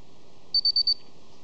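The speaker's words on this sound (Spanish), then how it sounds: "Digitamos la tecla noche hasta que nos dé el pitido." Four quick, high electronic beeps from an SP 4000 alarm keypad in a short evenly spaced burst, clear over a quiet background hum.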